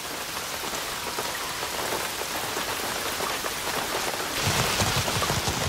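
Steady rain falls on rainforest plants and leaves, a dense continuous patter that grows heavier and closer toward the end, with no voices.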